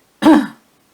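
A single short, close throat clearing with a slight cough, loud and alone against silence, during a crochet lesson on a granny square.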